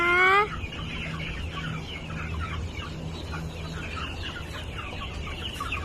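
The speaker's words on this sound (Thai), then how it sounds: "และนี่ก็คือค่ายไก่ชนของเรานะคะ" Fighting roosters at a gamecock farm, one loud crow opening right up close, then a busy chorus of clucks and distant crowing from many birds over steady low background hum.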